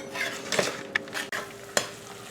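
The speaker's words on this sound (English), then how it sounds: "I'm going to stir this until it starts to bubble" A spoon stirs kiwi jam cooking in a pot, giving scraping strokes and a few sharp knocks against the side, close and moderately loud over a low sizzle.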